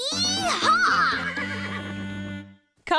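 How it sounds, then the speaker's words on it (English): A cartoon horse neighs loudly in a long, wavering whinny lasting about two and a half seconds, followed by a short silence and the start of another sound. "Perched safely on the horse, Caillou felt like a cowboy as Uncle Felix led him and Harry around the field"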